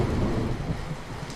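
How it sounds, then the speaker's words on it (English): A thunderstorm sound effect with a deep rolling rumble of thunder over dense, steady rain, loud and enveloping for the whole stretch, with no voices. "He stepped out into the storm."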